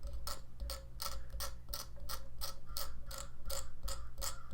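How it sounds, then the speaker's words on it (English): A metal blade scrapes gently across a bagpipe chanter reed resting on a table, giving a close, steady run of about a dozen short, even rasping strokes. "I'm just going to kind of scrape gently"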